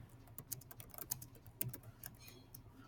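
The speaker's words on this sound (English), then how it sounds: "when I start typing" Fingers tap quickly across a computer keyboard in an uneven run of light clicking keystrokes, close and fairly quiet, with no voices over it.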